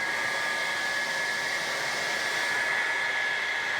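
A hair dryer or heat gun blows steadily on red car paintwork lacquer, a constant close airy roar with a faint whine holding level throughout, no voices.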